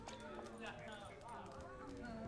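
A horse gallops in The Witcher 3: Hearts of Stone, rapid hoofbeats clip-clopping in a steady rhythm, quiet and faint beneath ongoing spoken dialogue.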